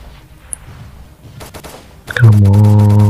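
Quiet ambience gives way to a few short bursts of gunfire as zombies are shot in the video game Zombie Poly, followed by a loud, sustained, horn-like low tone.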